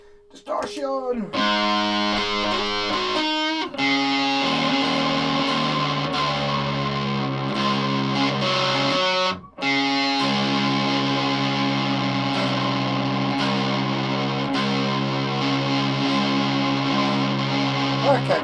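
A Squier Classic Vibe Tele Deluxe electric guitar played through distortion, with sustained overdriven chords, a brief break near the middle, then more ringing distorted chords with reverb-like tails.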